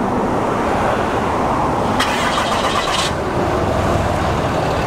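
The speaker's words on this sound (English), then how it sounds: "That's a Cummins diesel." A Ram truck's Cummins turbo diesel engine starting, a brief burst of cranking and ignition noise about a second long amid steady outdoor rumble and road noise.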